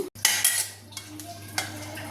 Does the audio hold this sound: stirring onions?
yes